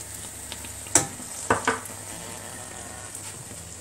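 Pizzette frying in sunflower oil: a steady soft sizzle, with a few sharp pops and clinks from the pan standing out clearly over the bubbling.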